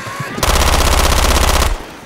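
Rapid automatic gunfire in the zombie shooter Left 4 Dead 2 bursts in loud and close, a dense rattling stream of shots lasting over a second before cutting off abruptly.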